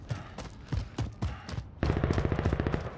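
Call of Duty Modern Warfare gunfire: several spaced single heavy shots followed by a rapid sustained machine gun burst, loud and close, with faint voices underneath.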